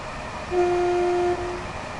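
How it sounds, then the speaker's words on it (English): A Gatwick Express train in the Train Sim World 2 video game sounds one steady, sustained horn blast of about a second over a constant low rumble. "you can certainly hear the horn"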